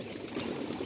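Madrasi pigeons burst out of their loft on release, a brief flurry of flapping wings, close and quick, with faint bird noise.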